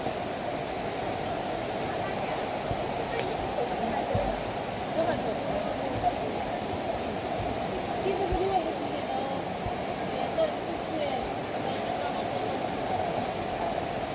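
Water flows in a stream in a valley sinkhole near Chongqing, China, a steady broadband rush heard close and fairly loud under the whole stretch, with people talking over it now and then.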